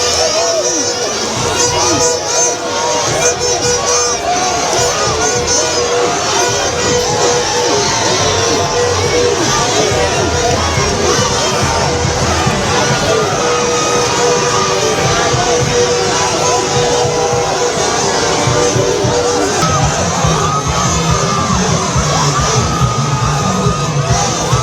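A large outdoor crowd in Mali cheers, whoops and shouts as political leaders arrive, dense and loud throughout, with yells and children's voices mixed into the continuous roar.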